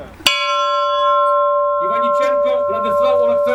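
A memorial bell at a ceremony for fallen defenders in Odesa is struck once, a sharp loud clang ringing on with long sustained tones, then a voice begins speaking over the fading ring.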